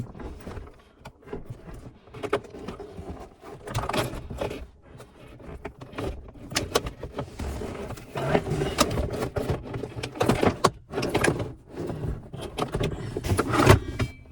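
Plastic center console of a 7th-generation Nissan Maxima being worked down around the gear shifter, giving a steady run of close clicks, knocks, rubbing and creaks from trim parts being pressed into place, with no talk.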